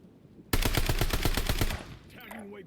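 A rapid burst of automatic gunfire from the video game Call of Duty Warzone rattles loudly for about a second, then cuts off, followed by fainter game sounds.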